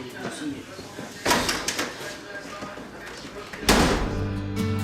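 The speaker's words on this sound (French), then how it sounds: "claque la porte de toutes ses forces" A door slammed forcefully during a heated family argument at home, a loud sharp bang near the end over a noisy background with an earlier similar thud.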